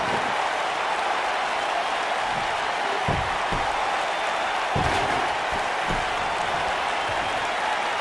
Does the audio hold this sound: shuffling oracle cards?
no